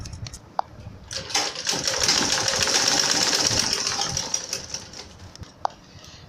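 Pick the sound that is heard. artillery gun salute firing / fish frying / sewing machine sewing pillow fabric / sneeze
sewing machine sewing pillow fabric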